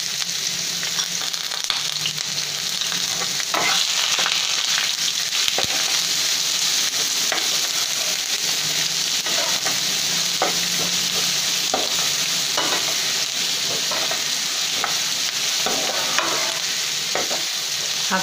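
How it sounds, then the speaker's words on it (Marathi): Chopped onion sizzles steadily in hot oil in a pan as it is sautéed for a Maharashtrian prawn curry, with occasional scraping stirs over the continuous frying hiss and no talk. "हा कांदा गुलाबी होईपर्यंत आपल्याला परतायचा आहे।"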